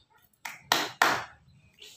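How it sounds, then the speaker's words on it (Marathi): A first-grade child claps hands three times in a classroom activity, three sharp, close claps in quick succession with a short pause between the first and second. "हां तीन टाळ्या वाजव"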